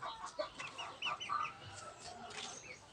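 Chickens and chicks in a coop give a few short clucks and sharp peeps, close but fairly quiet, over a low background hum.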